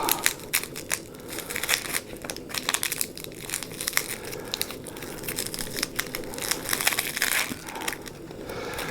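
Papery crinkling and crackling as a banana shallot is peeled by hand close up, a continuous dry rustle of skin tearing away with small sharp crackles throughout.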